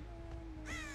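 Crows caw in a game setting, a short burst of harsh calls near the end over a steady background hum.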